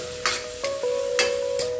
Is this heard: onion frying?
yes